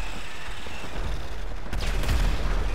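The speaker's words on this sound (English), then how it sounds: "Tanks are trying to shoot!" Tanks firing during a military base scene in Grand Theft Auto V: a continuous rumbling din with a heavier burst of blasts and rattling fire building toward the end.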